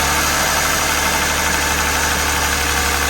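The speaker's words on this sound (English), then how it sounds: "So now we're gonna go ahead and give it a test crank." A Lexus RX 350 engine runs after a starter replacement, a loud, close, steady idle with even mechanical churning and a rough, knocking edge throughout.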